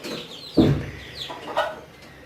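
A Light Brahma hen in a backyard coop clucks, with one loud close cluck near the middle and a softer second one later, over faint ambient noise.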